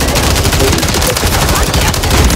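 Loud, sustained automatic gunfire in a Call of Duty Modern Warfare III multiplayer match, rapid bursts overlapping into a constant rattle for about two seconds, close and harsh with no voices over it.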